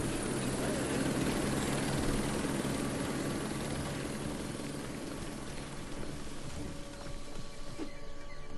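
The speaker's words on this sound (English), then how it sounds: "A helicopter." A steady helicopter drone with thumping rotor beats from the video game Gibbon: Beyond the Trees holds at a constant level throughout, fading slightly at the end.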